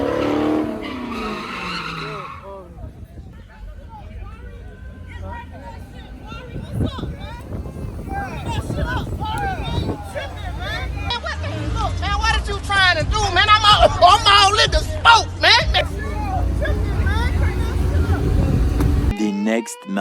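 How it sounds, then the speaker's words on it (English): A supercharged Dodge Challenger Hellcat at a Miami car meet, its engine revving hard with tires skidding, loud and close, with wind buffeting and people talking and shouting over it. "Swinging that Hellcat, boy. Hear that supercharger?"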